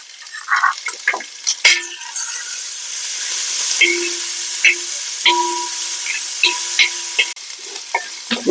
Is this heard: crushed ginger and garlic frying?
yes